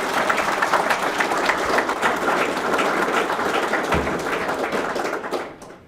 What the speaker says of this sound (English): So another round of applause for these guys.